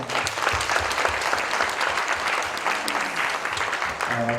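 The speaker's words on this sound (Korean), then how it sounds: "우리 다 같이 박수로 하나님께" A church congregation at a Korean March 1st prayer service and book launch bursts into dense, steady applause that is close and loud and fills the whole stretch.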